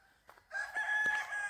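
A rooster crows once, a faint, drawn-out call from some distance away against a quiet background.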